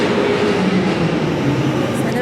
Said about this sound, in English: The train going through there.